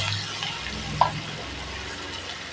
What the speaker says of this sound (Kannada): ಇದು ಬೆಳ್ಳುಳ್ಳಿ ಒಗ್ಗರಣೆ, 1 ಗಡ್ಡೆ ಬೆಳ್ಳುಳ್ಳಿ